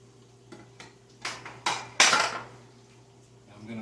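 A spoon clinks and scrapes against a pot while serving sausage soup, several separate metallic knocks building to louder clatters in the middle, then fading, with a low steady hum underneath.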